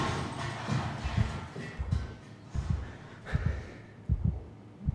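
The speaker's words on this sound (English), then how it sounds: "Why is my heart pounding?" A pounding heartbeat in the SOMA video game, low thumping double beats repeating at a steady rhythm, fairly close and muffled with no talk.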